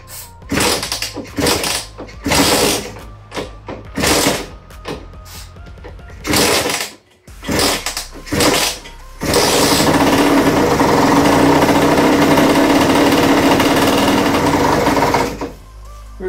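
A 2010 Rieju MRT moped with a spark fault cranks in several short loud attempts, then catches and runs as a high buzzing two-stroke idle close by for several seconds.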